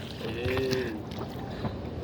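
On the Mahanpur River, a rowboat moves through a constant breezy water hiss, and a brief steady tonal hum rises and fades early on.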